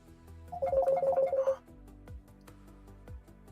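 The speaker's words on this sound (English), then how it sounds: "And John's getting a phone call." A phone ringtone chimes for about a second with a quick repeating melody, signalling an incoming call, then quiet room tone follows with a few soft low thumps.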